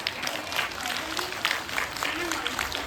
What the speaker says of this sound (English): Give them again a big round of applause